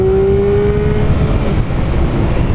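A motorcycle engine revs hard while being ridden, a loud, steady close-up drone with a rising whine through the first second, no voices.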